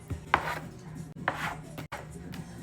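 Bread dough pieces are cut in half with a knife or scraper on a work surface, two distinct soft chops about a second apart, close by, over a faint hum.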